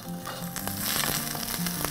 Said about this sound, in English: we're just going to pop all of those in there and just give those a little stir around there for just a second